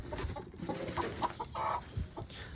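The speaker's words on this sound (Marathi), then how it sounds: "हे बघा, आता आपल्या कोंबड्या चढत आहेत ना" Chickens cluck in short, scattered calls at close range on a farm, with light rustling and movement between the clucks and no talking.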